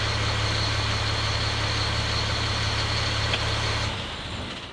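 An RV engine runs at a steady idle while warming up, producing a loud, even drone with a low rumble that eases off slightly near the end, with no talking.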